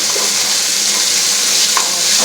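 Tomato, whole green chillies and Kashmiri chilli powder frying in a little oil, a loud, dense, continuous sizzle close up with no speech.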